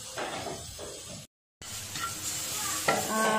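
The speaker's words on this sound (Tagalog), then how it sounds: "saute the garlic" Garlic sautés in a pan with a close, steady sizzle and the scrape of stirring, broken by a brief moment of silence partway through.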